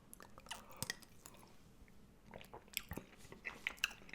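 Someone chews a bite of moose stew up close, soft wet mouth sounds with small crunches and clicks coming in irregular bursts, quiet and with no talking.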